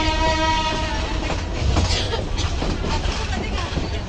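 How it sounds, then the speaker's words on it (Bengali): A passenger train pulls out of Lalmonirhat railway station, its steady rumble and rolling clatter close and continuous, with a faint horn-like tone in the background and voices nearby. "ট্রেনটা এখন ছাড়লো তো এখন ভালো লাগবে।"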